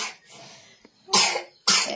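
Person coughing nearby: a soft breathy sound, then two loud harsh coughs in quick succession, with no talking.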